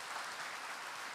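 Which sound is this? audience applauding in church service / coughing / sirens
audience applauding in church service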